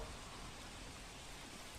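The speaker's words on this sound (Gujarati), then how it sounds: "વડોદરા શહેરમાં ધોધમાર વરસાદનું આગમન" Heavy downpour over Vadodara city, enough to flood low-lying areas: a dense, steady hiss of rain that stays even and close throughout, with no voices.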